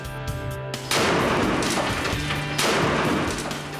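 A gunshot fired at a hand dummy in a blast test: two loud, sudden bangs a little over a second and a half apart, each leaving a rough, rumbling decay, with no talk.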